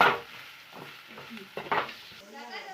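Soft scraping and stirring of fried liver with spices in a pan, a light sizzle underneath, a few clinks of a utensil against metal, close by.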